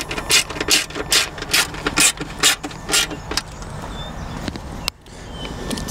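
A ratchet clicks in quick rhythmic bursts while tightening the rear screws of a luggage rack on a Vespa GTS 300, close and fairly loud, each pass a short burst of rasping clicks with brief pauses between.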